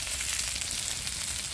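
Pieces of rohu fish sizzle and crackle steadily in hot oil, a dense, even frying hiss that holds at a moderate level with no voices.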